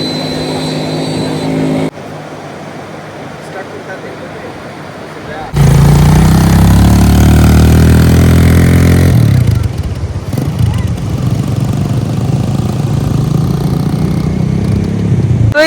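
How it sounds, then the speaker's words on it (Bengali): A beach bike engine idles, then revs up loudly as the ride starts, holding a steady close drone, with family members talking during the ride. "রাহাত আর রাফি আসছে, আর আমরা এখন বিচ বাইক আবার চলব।"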